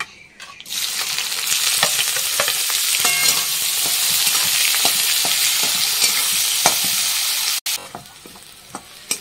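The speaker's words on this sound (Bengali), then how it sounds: "আর এবার ছেড়ে দেবো এর সঙ্গে আমি এই কুচিয়ে রাখা পেঁয়াজগুলো সব এখন ছেড়ে দেবো।" Chopped onions tossed into hot oil with black cumin and bay leaf sizzle loudly and steadily, with frequent stirring scrapes and clinks breaking through the constant frying hiss, close by and with no talking.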